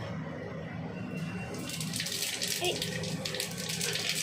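Cold water is poured into a pan while a katla fish curry is being made, a close, steady gushing stream that grows fuller partway through and runs on to the end, with no voices.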